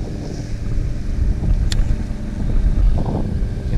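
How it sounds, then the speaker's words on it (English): High wind gusts across an open pond during a bass fishing outing, a steady broadband roar buffeting the microphone, loud and continuous with no talk. "These high winds, that's what you got to anticipate"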